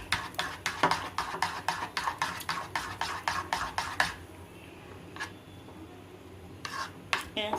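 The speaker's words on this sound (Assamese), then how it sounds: "মই তো এতিয়া ধুনীয়াকৈ আৰু এনেকৈ লৰাই দিম" Salted jalebi syrup stirred in a pot with a steady rhythmic scrape, about a dozen quick strokes for four seconds, then a few isolated clinks and scrapes as stirring stops.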